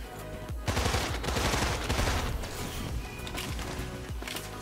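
Rapid gunfire in the first-person shooter Immortal Redneck, a loud, dense barrage of overlapping shots that keeps going without a break, with a sharper crack near the start and more bursts toward the end.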